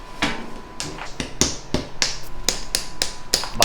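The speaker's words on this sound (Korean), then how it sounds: "망치로 깨는 거예요?" Sharp hammer strikes cracking handmade throat candy made with pear juice, about a dozen crisp, irregular knocks close by, each with a bright snap, no talk over them.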